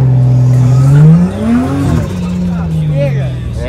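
BMW E30 engine revving up and easing off in a strong rising-and-falling sweep, loud and close with brief tire noise, while people talk over it.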